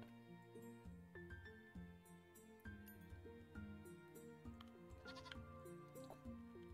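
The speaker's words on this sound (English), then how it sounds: "We'll even put a goat up here." In the video game Equilinox, a goat gives several short bleats over soft, plucked background music with occasional light chimes.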